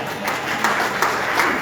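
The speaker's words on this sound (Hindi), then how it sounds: "जितनों ने ताली बजाई है," A church congregation applauds in a short, dense burst of clapping that stays steady and fairly loud, with a few sharper claps standing out.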